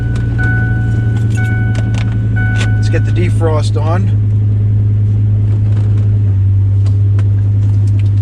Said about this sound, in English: I could listen to this, to the sound of a V10 all day.